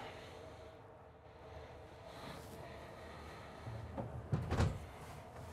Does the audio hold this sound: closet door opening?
yes